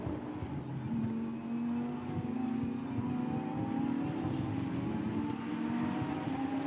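Lamborghini Super Trofeo race cars at the Nürburgring drone continuously at high revs, several engine tones rising together as the field passes at a moderate distance, steady and loud without pause.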